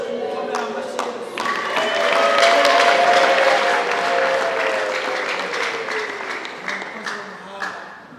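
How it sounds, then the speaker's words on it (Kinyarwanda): Congregation applause for Jesus during a church service, sustained clapping swelling in the middle and tapering toward the end, with a voice speaking over it throughout. "tumukomera amashyi Yesu"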